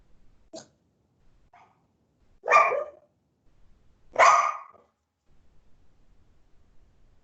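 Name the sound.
dogs barking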